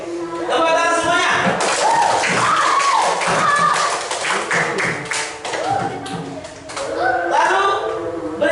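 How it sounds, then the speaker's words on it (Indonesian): A classroom of children claps together, dense and busy tapping that carries on for several seconds alongside children's voices and chatter. "Tepuk tangan semuanya."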